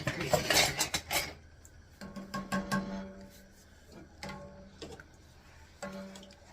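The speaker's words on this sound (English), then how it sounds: "I'm going to use my spoon to get all that stirred together" A spoon clinks and scrapes against a pot while stirring chicken, vegetable and bean soup, with bright metallic taps at the start and then quieter, irregular stirring knocks close by.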